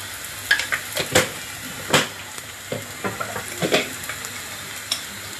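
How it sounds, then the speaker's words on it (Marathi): Brinjal bharit mixture frying in a pan until it turns red, a low sizzle broken by irregular spatula scrapes and clinks against the pan, close by and with no voices. "हे चांगलं लाल होईपर्यंत भाजून घ्यायचं."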